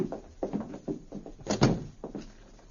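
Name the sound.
hotel room door being locked, radio drama effect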